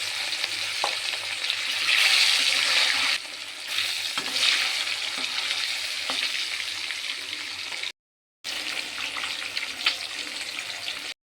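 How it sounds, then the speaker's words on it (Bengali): Rohu fish frying in hot oil in a home kitchen, a steady loud sizzle and crackle running throughout with brief dips, one short break near the end, and no talking. "মাছগুলো একে একে সব ভেজে নেব। তেলের মধ্যে মাছ দিয়ে দিলাম।"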